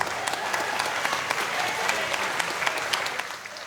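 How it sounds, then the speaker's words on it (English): Audience applause after an amateur combat bout at a fight series event, a burst of dense crowd clapping that holds steady and then tapers slightly at the end. "Ladies and gentlemen, round of applause for fight number 3 on Salt Fight Series."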